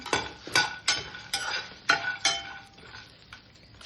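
Peanuts, dried red chillies and whole spices tossed and roasted in a clay pot for mutton masala, a series of sharp scraping clinks from stirring, close and fairly loud, at an uneven rhythm with no voices.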